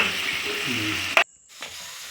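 Goat tripe (boti) deep-frying in hot oil gives a steady, close sizzle, then a sharp click, a brief near-silence, and a fainter sizzle picking up again.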